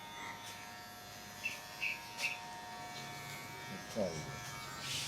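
Electric clippers shave a man's head, a steady faint buzz running under the whole stretch with a few brief louder bursts; there is no clear speech over it.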